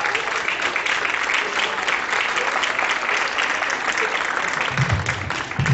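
Dense, continuous applause from an audience at a university art school exhibition event, loud and even throughout with no gaps.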